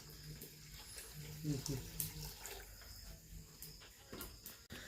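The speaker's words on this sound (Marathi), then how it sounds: "त्यामध्ये पाणी टाकून घेत आहे दीड एक लिटर" About one and a half litres of water is poured into a pot of tempered chicken as it cooks: a faint, uneven splashing and trickling with soft background noise.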